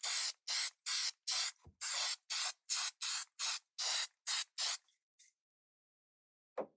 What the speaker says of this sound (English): using this 3M spray, I'm going to spray the backs of these acrylic parts